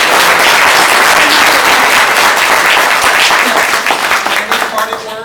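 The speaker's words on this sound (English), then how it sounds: "So can we give them a round of applause?" Event audience applauding speakers at a wearables talk, loud close clapping that stays dense and then thins and fades near the end, with voices mixed in.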